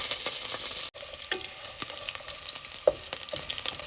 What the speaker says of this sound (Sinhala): තෙල් ටික රත් වුණාම රම්පේ, කරපිංචා, ඒ වගේම දෙහි කොලේ, සුදු ලුණු එකතු කරගන්නවා